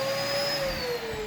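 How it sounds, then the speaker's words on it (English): A vacuum cleaner runs steadily after being switched on for a test, a loud continuous motor whine with a high tone holding throughout, no talking. "And we should have power. Let's see. Let's test it out."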